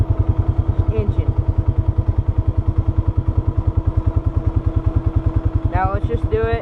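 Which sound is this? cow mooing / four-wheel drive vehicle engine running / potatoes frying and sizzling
four-wheel drive vehicle engine running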